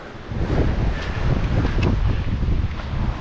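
Steady, broadband wind roaring and buffeting close to the microphone, continuous with gusty swells and no voices, on a snowy trek below Cerro Torre in Patagonia.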